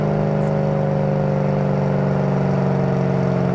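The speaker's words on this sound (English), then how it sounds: "Love that supercharger whine. They sound awesome going down the road." A 2007 Ford Mustang Shelby GT500 with its supercharged V8 holding a steady, loud drone while cruising down the road, a smooth continuous whine layered over the engine hum with no talking.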